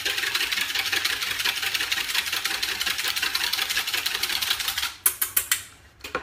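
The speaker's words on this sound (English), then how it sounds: "So whisk this up." Hollandaise sauce whisked briskly in a bowl during a home cooking class, a fast continuous metallic scraping that runs steadily, then breaks into a few separate louder clinks near the end.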